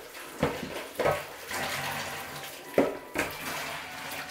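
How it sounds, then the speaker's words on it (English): Water that cleaned orchid pots poured out in a few splashy bursts, each a quick gush against a surface, with quieter trickling and faint clinks between them. "what I'm going to do now is empty this water"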